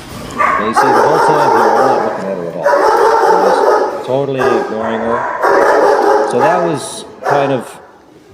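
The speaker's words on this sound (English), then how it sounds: "again, it's the high-pitched bark, the high-pitched kind of a yelp thing." Insecure puppy giving high-pitched barks and yelps in a stressful situation, close and loud, mixed with whimpers in repeated bursts while someone talks over them.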